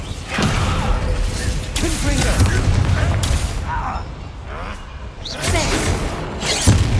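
Bombarda and Descendo spell blasts go off in Hogwarts Legacy as repeated booming, shattering bursts with crashing debris, loud and close. A voice talks over the blasts.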